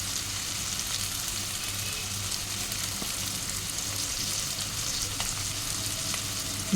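Spice paste of tomato, green chilli, ginger, cumin and coriander powder frying and being stirred in a pan, a steady close sizzle with faint scraping, no voices.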